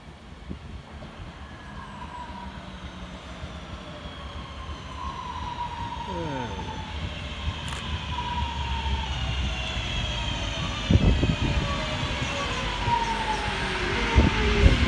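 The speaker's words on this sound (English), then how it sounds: "we see the arrival of 323229, working the 11:01 Northern service from Crewe through to Manchester Piccadilly" Northern train 323229 arriving at Goostrey station, heard as a rising rumble and hum of the approaching electric unit with squealing tones, growing louder over the clip, ending with thumps and rattles near the platform.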